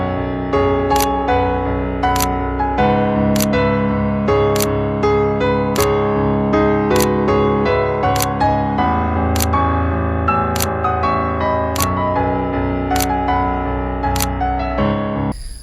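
Nikon Z6 III mirrorless camera with a 180-600mm zoom firing shutter bursts for wildlife and bird shots: a steady run of sharp mechanical clicks at regular intervals, close and loud, with no talking.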